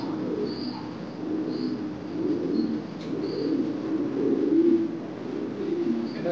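A German nun pigeon coos in low, repeated, rolling calls at close range, with a few faint chirps in the background.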